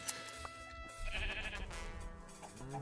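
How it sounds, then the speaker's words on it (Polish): Sheep bleat a few times in Minecraft against a busy game background of tones and soft effects, the bleats moderately close but not loud. "O, są owce, są owce, są owce, są owce."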